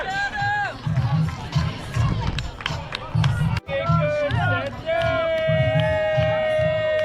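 Spectators cheer and clap for ultrarunners at a 100-mile race finish line, a steady crowd hubbub with a rhythmic low thumping underneath and bright sustained whistle-like tones, nearby voices shouting encouragement throughout.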